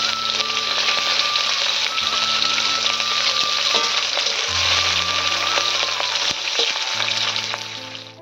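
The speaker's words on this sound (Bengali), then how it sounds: "মাছটা ভেজে নিচ্ছি" Hilsa fish fries in hot oil in a pan, making a loud, continuous, close sizzle that holds steady and then fades slightly at the end.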